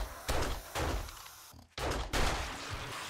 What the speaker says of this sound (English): I just need a quick test run for my pistol